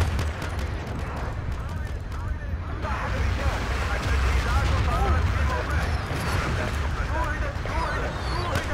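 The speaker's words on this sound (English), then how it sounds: "artillery is coming down straight away as soon as I spawn." Artillery shells land in Battlefield 2 on the Karkand map, a dense, continuous roar of booming blasts and rumbling explosions that stays loud and close for the whole stretch.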